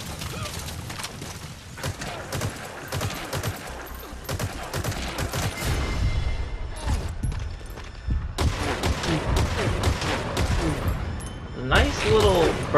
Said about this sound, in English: Nice little burst fire.